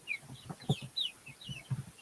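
Several chickens cluck in short, irregular bursts close by, with high chirpy calls scattered between the lower clucks and no talking.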